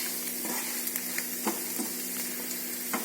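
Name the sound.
onions frying in pan with ginger and garlic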